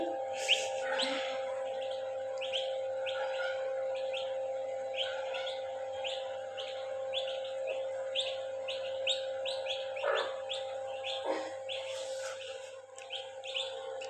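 Small turkey chicks peep continuously in rapid, high-pitched chirps, fairly close, over a steady low hum.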